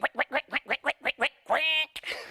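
Voices imitate a duck, giving a quick run of eight rhythmic quacks followed by a longer drawn-out quack and a short final squawk, close and clear.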